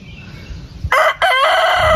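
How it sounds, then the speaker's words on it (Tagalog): A native chicken rooster crows loudly and close by on a farm, one strong call broken by a brief pause, rising sharply out of quiet low background noise. "Yung native chicken nila dito."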